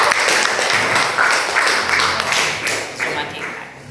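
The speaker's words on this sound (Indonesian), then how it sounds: "Kasih tepuk tangan buat" Applause from a classroom of vocational high school students, dense steady clapping sustained throughout with voices mixed in underneath.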